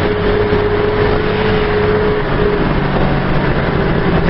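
An Ikarus 280.28 articulated bus cruising at 100 km/h, its engine giving a steady, loud, continuous drone with road and wind rumble from inside the cabin and no voices.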